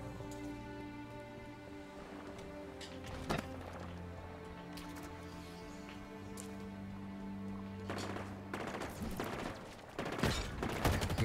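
Gunfire in the shooter Halo Infinite, sparse single shots early, then a denser burst of rapid cracks near the end, set against steady game music and ambience.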